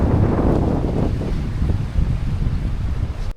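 Strong winter wind roars across a remote Scottish island, a loud, dense, continuous rush with gusty surges and no voices.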